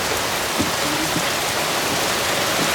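Steady rain pouring down over a rice paddy field, a dense, even hiss of drops close by that continues unbroken throughout.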